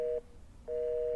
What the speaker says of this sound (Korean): 안테나는 뜨는데 전화가 안 걸리네?